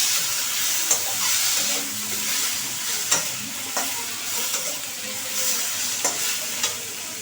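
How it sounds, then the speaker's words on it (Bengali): Potatoes fry with chili powder and black pepper in a pan, giving a steady hiss. Scraping stirs and soft knocks from a spoon break in every second or so. "একটু ভাজা ভাজা মতো করবো আলুটাকে"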